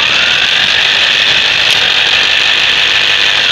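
A Meltec FT-09P electric impact wrench runs continuously on a Suzuki Every during a studless tire change, giving a loud, steady mechanical whirr with no pause or talk.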